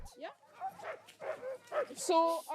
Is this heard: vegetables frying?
no